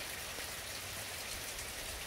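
Steady rain falls outdoors under a hazy sky, making a soft, even hiss of drops that stays faint and unbroken throughout, with no voices.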